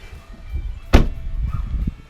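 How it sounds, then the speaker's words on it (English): A truck door slams shut once with a sharp, close thud, set against low background rumble and handling noise. "let's close the door."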